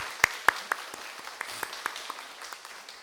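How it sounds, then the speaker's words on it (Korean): A church congregation at a Korean Sunday service claps, heard as scattered, sparse handclaps, about a dozen distinct slaps over a few seconds, fairly faint and thinning out toward the end. "성공해라! 라고 이렇게 큰 박수 한번 보내드리겠습니다"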